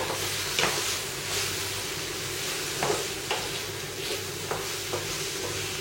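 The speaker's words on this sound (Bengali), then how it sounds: "সামান্য হলুদ দিচ্ছি, একটু নাড়াচাড়া করে" Raw mango chutney with a pinch of turmeric simmers in a pan: a soft, continuous sizzle with a few sharp spatula scrapes at irregular intervals, close by and without talk.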